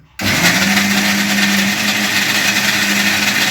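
A mixer grinder whirs loudly and steadily for about three seconds, grinding fresh ginger and garlic into paste for pepper chicken; the motor kicks in abruptly and runs alone with no talk.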